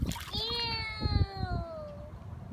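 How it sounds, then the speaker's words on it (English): A toddler splashing in a puddle outdoors after a thunderstorm, several wet splashes under a child's high-pitched voice and adult talk. "Can you jump in the puddle?"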